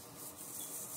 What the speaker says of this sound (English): Sorry about the noise from the gloves.